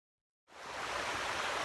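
River water flowing steadily at Brockbottom, a broad rushing hiss that starts abruptly after a brief silence and holds constant, close and fairly loud, with no voices.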